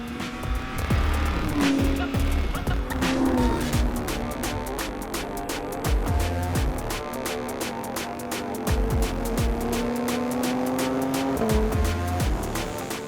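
A Porsche 911 GT3 with a naturally aspirated 4-litre flat-six driven hard, the engine revving up and down while tires squeal in long sustained screeches, close and loud throughout.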